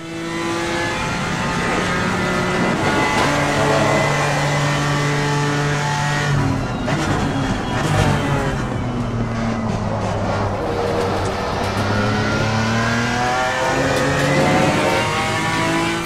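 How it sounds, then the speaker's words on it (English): A GT4 race car engine in Assetto Corsa Competizione roars loud and steady through a fast lap, rising and falling in pitch as it shifts gears and revs hard, with no voices over it. "it also has a fairly nice engine sound"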